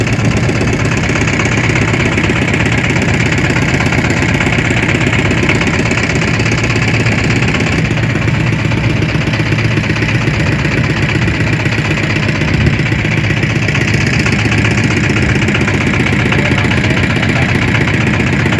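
A loud, steady motorboat engine drones without a break throughout on the Shitalakshya River, a low mechanical rumble with no voices.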